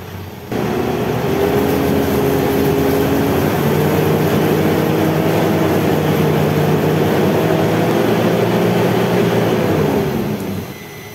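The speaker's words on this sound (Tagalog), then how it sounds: "I-start ko ulit itong makina." A Ford Everest engine with a freshly cleaned muffler pipe starts and settles into a steady, loud idle, running continuously with a constant low hum and no talking until it cuts off near the end.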